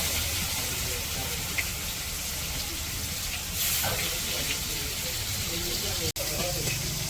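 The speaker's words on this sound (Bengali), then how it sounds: "মাছগুলা কড়াই দিয়ে দিতেছে।" Spiced fish frying in oil in a wok sizzles steadily as a constant hiss, with a brief stronger surge partway through and a sharp click near the end.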